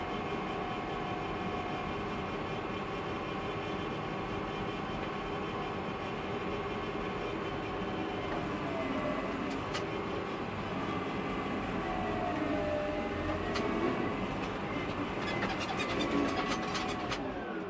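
A large bulldozer works pushing dirt, its heavy diesel engine droning in a steady low rumble with faint metallic clanks and squeaks of the tracks appearing toward the end.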